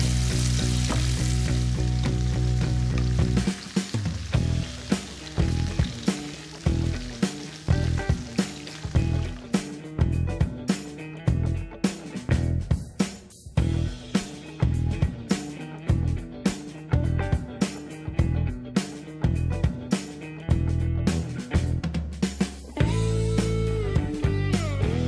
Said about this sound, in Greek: παίρνουμε μια ξύλινη κουτάλα και ανακατεύουμε μέσα